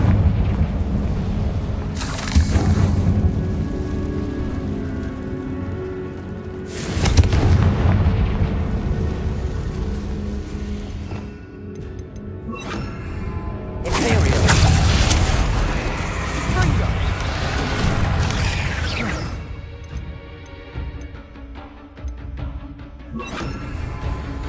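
Confringo blasting-spell explosions go off in Hogwarts Legacy, several heavy booming bursts spaced across the stretch, each with a rumbling tail, mixed with game sounds and a voice speaking between blasts.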